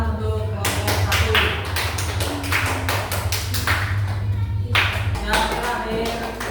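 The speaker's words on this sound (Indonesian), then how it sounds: "Tepuk tangan untuk kelompok 1" Applause for a student group in a classroom presentation: a crowd of people clapping steadily and briskly, dense and close, with a constant low hum underneath and a slight drop in intensity toward the end.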